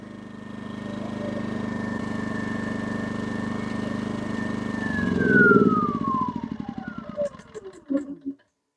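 A Genco portable generator's small engine hums steadily on the last fuel in its line after the fuel is shut off, then falters, its pitch sliding down as it sputters and chugs unevenly before cutting out.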